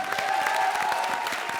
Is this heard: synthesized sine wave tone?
no